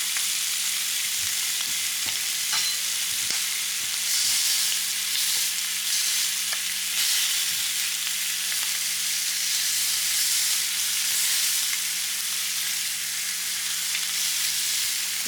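Prawns sizzle on a hot grill, a steady close frying hiss broken by light clicks and small pops from the shell, with no talk over it.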